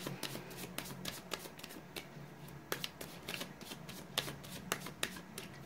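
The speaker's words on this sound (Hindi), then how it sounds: "तब तक मैं कार्ड की सफलिंग भी कर लूँ।" Tarot cards are shuffled close by in a series of quick riffling bursts with soft papery flicks between them. No one talks.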